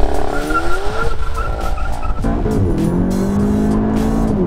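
A VW Golf 7 GTI TCR revs hard and launches with ESP off and wheels spinning, tires squealing loudly as the engine note climbs and shifts, close by.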